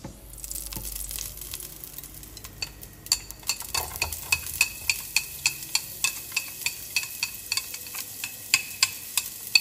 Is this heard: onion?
yes